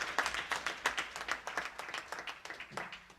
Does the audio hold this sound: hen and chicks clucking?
no